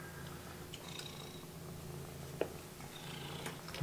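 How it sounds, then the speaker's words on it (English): A house cat purrs softly and steadily close by in a quiet room, with a single faint click partway through. "What are you doing, cat?"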